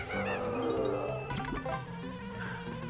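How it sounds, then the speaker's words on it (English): Buzzing bees in the video game Banjo-Kazooie, faint wavering insect drones over jingling game music and sound effects, with warbling tones rising and falling throughout. "So, bees!"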